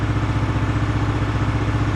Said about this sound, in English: A little noisy in the shed here with the engine running